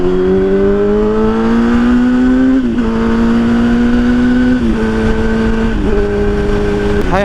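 A sport motorcycle engine revs loudly and steadily, its tone climbing in a few stepped pulls with brief dips between, close and continuous.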